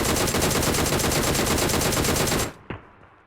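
Rapid automatic gunfire from PUBG Mobile, a loud unbroken stream of shots for about two and a half seconds that cuts off abruptly, followed by a single sharp report and fading echo.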